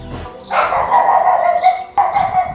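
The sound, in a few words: puppy barking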